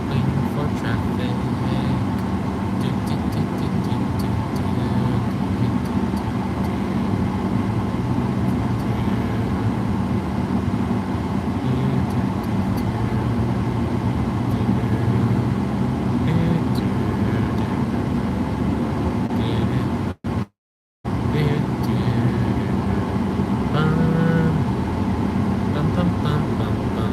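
Traffic hums steadily around a waiting vehicle, a constant low rumble of idling cars with a brief dropout partway through, and a voice talks over it at times.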